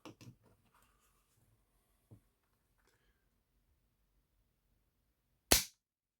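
Gun trigger snapping in a quiet room during a trigger pull weight test, one sharp crisp click near the end after a few faint handling clicks and taps.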